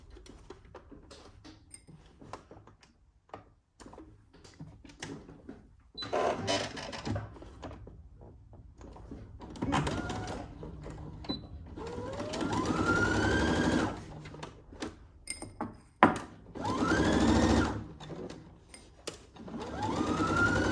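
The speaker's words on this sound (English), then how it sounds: "We are sewing center back." A home sewing machine runs in several bursts while stitching the center back seam of a dress, the whirring starting and stopping, rising loud in the second half, with small clicks and handling noises between runs.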